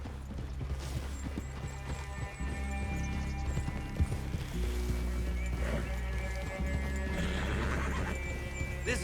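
Horses in Red Dead Redemption 2 neigh and whinny over steady clip-clop hoofbeats and rustling movement, fairly close and continuous, with a low ambient rumble beneath.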